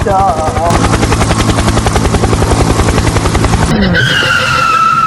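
A loud helicopter drones with rapid rhythmic rotor thumping, close and continuous, before a sharp shift to higher whining tones near the end.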